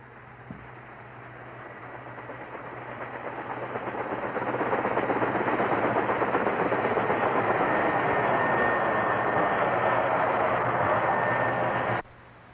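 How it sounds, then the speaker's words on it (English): Kaman turbo rotor helicopter with a turbine engine, a broad rushing turbine roar with a high whine that swells over the first few seconds and then holds steady and loud until an abrupt cut. "Let's listen to the turbine again."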